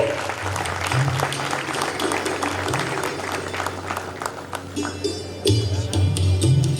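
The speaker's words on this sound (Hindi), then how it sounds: "जोरदार तालियां इस स्वागत के लिए।" An audience applauds as a guest is welcomed onto the stage at a spiritual talk in Raipur, a steady wash of clapping with a low voice or hum running beneath it and a louder swell near the end.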